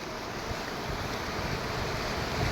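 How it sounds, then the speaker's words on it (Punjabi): Fast-flowing floodwater in a Punjab border village roars steadily and loudly throughout, a dense, unbroken rushing sound with no voices. "ਪਾਣੀ ਤੇਜ਼ੀ ਨਾਲ ਆ ਰਿਹਾ ਹੈ"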